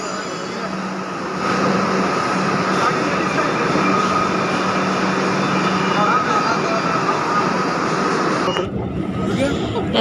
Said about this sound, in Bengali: আমাদের মেট্রো চলে এসছে